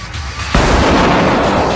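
Flashbang grenade detonating as a sudden loud broadband blast that cuts in after a quieter moment, then holds as a dense rumbling roar that barely fades.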